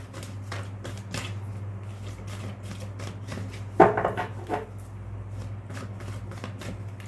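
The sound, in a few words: shuffling tarot cards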